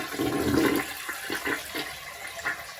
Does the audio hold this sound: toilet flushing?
yes